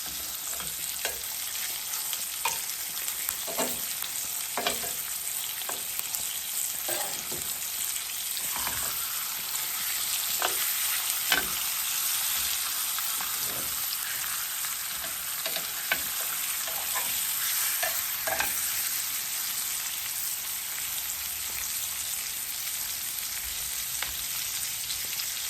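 Jerk pork chops fry with thyme in a hot pan, a loud steady close sizzle with scattered spitting pops throughout and no talking.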